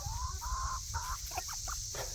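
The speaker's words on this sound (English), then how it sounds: "And these chickens are crazy. They're just going after anything that I throw out there." Backyard chickens clucking in short, bright bursts while they peck at leaves tossed to them beside a raised garden bed, close and steady over a constant low background hum.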